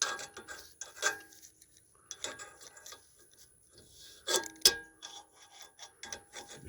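Bolt threads on a satellite dish being cleaned, giving quiet, irregular rasping and rubbing scrapes with a few sharper clicks, close up and without talk.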